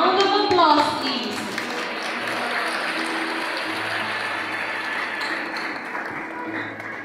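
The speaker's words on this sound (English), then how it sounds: "A very warm round of applause, please." Audience applause at a school ceremony rises as a dense wash of clapping that carries on steadily, with a voice heard briefly at the start.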